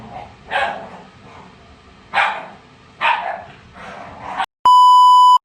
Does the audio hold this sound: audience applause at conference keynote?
no